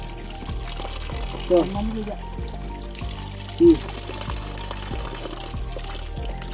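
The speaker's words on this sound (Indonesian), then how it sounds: "tinggal tuang aja, kayak ngisi ulang" Water pours steadily from a spring tap into a container on Mount Sindoro, Central Java, a continuous trickling splash heard close by, with a couple of brief voice sounds over it.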